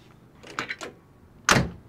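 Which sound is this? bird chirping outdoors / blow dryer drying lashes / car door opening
car door opening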